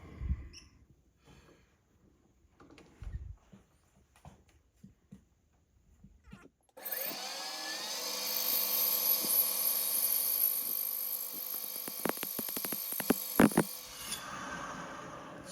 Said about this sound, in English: I've got a very fine tooth jeweler's saw here, and hopefully I can saw that right off